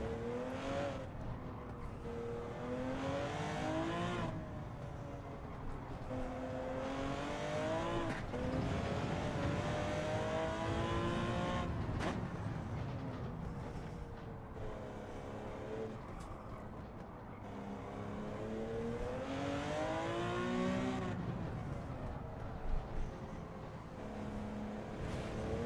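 A racing car's engine in the video game Gran Turismo 7 rises and falls through repeated accelerations and downshifts, a steady droning whine that swells and eases across the stretch with no talking.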